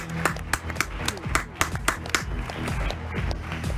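A few people clap their hands in uneven, distinct slaps during a casual Formula 1 livery reaction, with voices talking over and between the claps.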